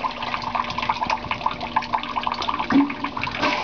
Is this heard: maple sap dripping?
yes